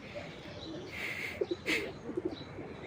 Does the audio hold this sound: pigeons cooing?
yes